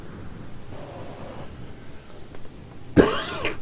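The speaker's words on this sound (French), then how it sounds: "excusez-moi, je tousse un peu." A single sharp cough bursts out near the end, close and loud, after several seconds of quiet low background hiss.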